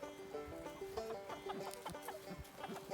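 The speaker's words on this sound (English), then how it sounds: "those little chicks grow and start looking like chickens" Chickens cluck in a pen on a ranch, a busy overlapping chorus of short, rhythmic clucks and calls heard fairly close but at low volume, with no one talking.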